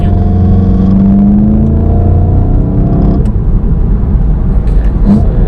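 VW Golf GTI engine revving hard in third gear, a loud steady drone that climbs in pitch for about three seconds before dropping into a rougher rumble, close and alone.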